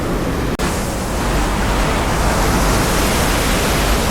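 Pumped water rushes loudly and steadily at a Six Flags Fiesta Texas water attraction, a dense, close roar of splashing and spray that fills the whole stretch without a break.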